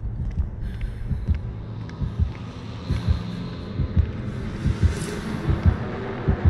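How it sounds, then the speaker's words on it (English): A low, rhythmic thumping heartbeat from the video game Dead by Daylight pulses steadily under a soft ambient hum, close and muffled. "I don't like that I already hear heartbeat."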